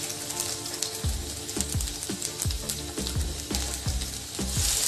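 Cumin seeds sizzle in hot mustard oil, a bright, close crackling hiss punctuated by a regular series of dull knocks, maybe a spoon against the pan.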